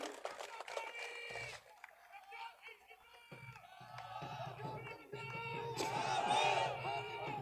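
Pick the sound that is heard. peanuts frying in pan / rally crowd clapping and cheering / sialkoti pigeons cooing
rally crowd clapping and cheering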